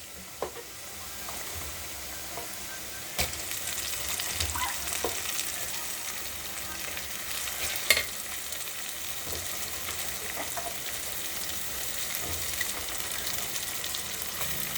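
Chopped onion and tomato fry with turmeric in a pan for crab curry, giving a constant broad sizzle with occasional soft stirring knocks and pops, close and even throughout.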